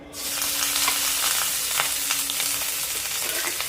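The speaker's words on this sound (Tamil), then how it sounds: "அதுலேயே வந்து ஆனியனும் அப்புறம் ஆட் பண்ணி நல்லா சாட்டே பண்ணிக்க போகிறேன்" Onion and basic spices sizzle steadily in hot oil in a pan for khichdi, a dense, continuous close frying hiss with faint crackles throughout, no talking.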